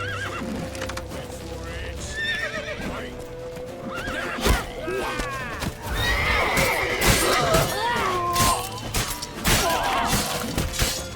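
A horse in The Witcher 3 neighs and whinnies repeatedly amid clip-clopping hooves, crashes and thuds, with voices shouting throughout during a chaotic game scene.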